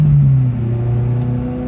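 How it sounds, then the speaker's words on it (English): A 25-year-old Subaru Sambar cruises at about 40 km/h, its engine giving a steady low hum with a faint whir, heard from inside the cabin. "Driving the other way. Doing about 40 kilometers an hour here."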